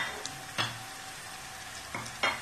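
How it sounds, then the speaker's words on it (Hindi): Chopped garlic fries with onions in a pan, giving a soft, steady sizzle. A few louder scraping bursts come from stirring, and no one speaks. "प्याज 2 मिनट फ्राई करने के बाद मैंने इसमें चॉप किया हुआ लहसुन डाल दिया है"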